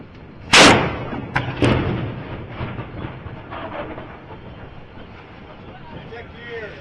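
Cannon fired aboard the square-rigged tall ship S/V California: one sharp, loud blast followed by a second smaller report and a long rumbling decay over open water.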